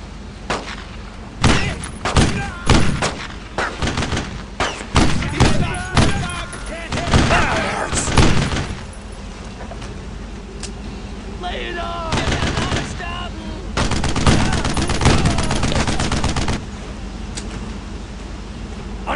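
Gunfire in the World War II shooter Brothers in Arms: Road to Hill 30: repeated bursts of rapid automatic fire and sharp single shots, loud and close, separated by short pauses, with voices mixed into the combat noise.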